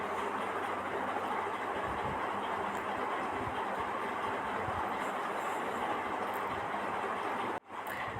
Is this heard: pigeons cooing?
no